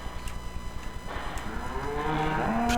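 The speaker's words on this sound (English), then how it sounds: "I hear cows" Cattle lowing in the Farming Simulator game near a cattle shed on a farm map: a long, rising moo swells up over a background of soft rhythmic ticking and ambient farm noise, fairly close and clear.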